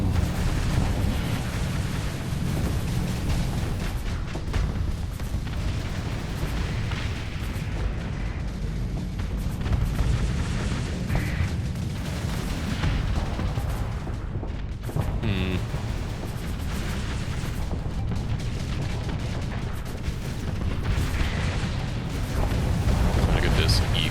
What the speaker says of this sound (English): Firing all those missiles costs so much flux